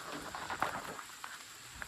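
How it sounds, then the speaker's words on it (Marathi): Rain falling outdoors in a garden with curry leaf and bael trees, a faint, steady patter of drops with a few slightly louder splashes over a soft hiss. "पाऊस आहे"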